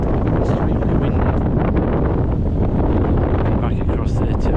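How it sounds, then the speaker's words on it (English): Strong wind on the Pennine Way near Edale and Kinder roars steadily into the microphone throughout, a dense broadband rumble with constant buffeting and no break. "Extremely windy."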